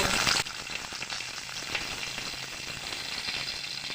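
Brinjal dropped into hot oil in a wok gives a brief loud burst of frying, then settles into a quieter, steady close sizzle with faint crackles.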